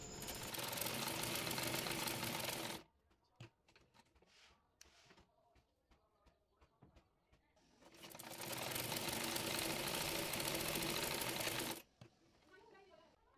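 A sewing machine stitches the back darts of a blouse in two loud, continuous whirring runs of a few seconds each. Quieter handling and a voice fill the gap between the runs.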